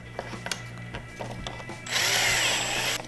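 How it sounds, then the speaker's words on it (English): After a few light clicks and taps, a variable speed drill in low gear whirs loudly for about a second, bites into material on a Ski-Doo snowmobile, then stops. "I'm using a variable speed drill so I can control how fast I'm going"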